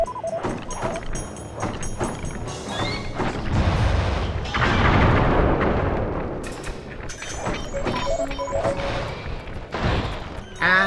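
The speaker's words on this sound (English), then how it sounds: "Load up on fireworks and let loose on entire groups of enemies at once." Fireworks in Sly 3 fire at enemies as a dense run of crackling bangs and booms, with a broad rushing burst in the middle and scattered sharp hits around it, loud and continuous without speech.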